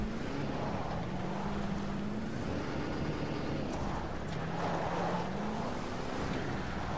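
A vehicle fitted with off-road tires driving in the video game Fortnite, a low engine hum rising and falling slightly beneath constant rushing wind and road noise.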